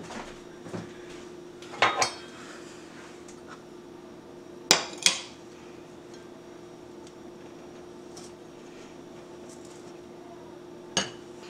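A utensil cuts butter into a crumb topping in a bowl, heard as a few sharp clinks and scrapes against the bowl in separate bursts over a quiet, low background hum.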